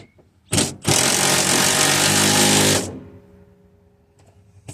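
A power tool runs the last bolt into a seat being installed in a 1982 GMC square body truck, one loud sustained burst of about two seconds after a short blip, then trailing off into a quiet shop hum.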